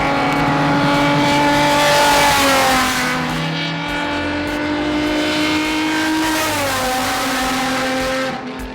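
The Exact Performance Carbon Z, a Nissan 350Z race car, roars around the track at a time attack event, its engine loud and close, pitch rising and falling with shifts before the sound fades at the end.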